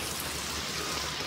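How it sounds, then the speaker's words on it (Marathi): Heavy rain pours steadily onto a flooded street where water surges in waves, a dense, even hiss of rain on water and surfaces with no breaks or voices. "पाऊस बघा, हे बघा इथे लाटासारखं येत आहे"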